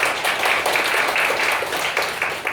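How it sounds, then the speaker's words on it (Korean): Applause from a seated audience at a Korean church debate forum, steady and dense throughout, without pauses or talk over it. "우리 박수로 발제를 청해보도록 하겠습니다"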